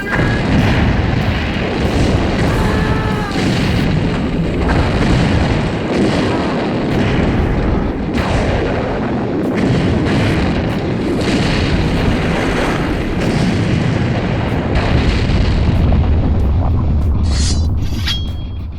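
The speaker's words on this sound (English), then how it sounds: "And this film's got more explosions than we've ever seen before." Loud, continuous rumbling explosions and booms from a James Bond film fill the whole stretch, dense and sustained with repeated heavy blasts and no speech.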